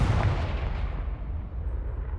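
Explosive Confringo spell blast in the Hogwarts Legacy video game, a loud booming burst at the start that rumbles and fades over about two seconds with no talk over it.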